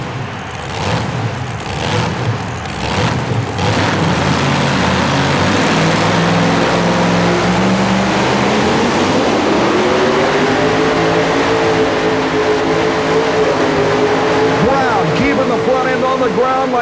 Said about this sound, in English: Supercharged, fuel-injected Chevrolet power here in the 1923 Ford.